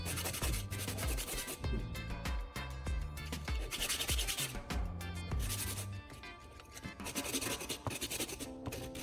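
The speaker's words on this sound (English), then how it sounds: "I'm sanding the cut edges of these small wooden pieces." Small wooden pieces have their cut edges sanded by hand, a close, rhythmic rasping scrub in repeated back-and-forth strokes that runs steadily throughout.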